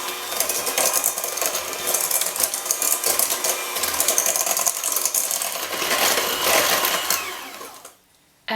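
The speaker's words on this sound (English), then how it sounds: "add the sugar and the salt, and whisk at medium speed until smooth" Electric hand mixer whisking ricotta with sugar and salt in a large bowl at medium speed, a steady dense whirring and clattering of beaters against the bowl, loud and close, cutting off near the end.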